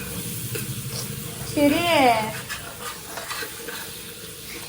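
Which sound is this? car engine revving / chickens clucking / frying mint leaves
frying mint leaves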